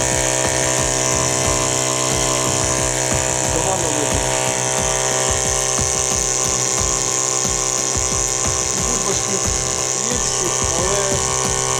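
A steady mechanical hum and whine of a TIG torch water cooler's pump motor runs continuously, with faint clicks and someone talking quietly beneath it.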